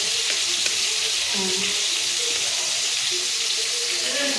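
Potatoes fry in a pan with a steady, close sizzle and crackle of hot oil, continuous and loud throughout with no speech.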